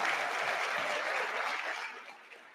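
Audience clapping at a university graduation ceremony, a dense, loud wash of applause from a large crowd that holds steady and then slowly fades out.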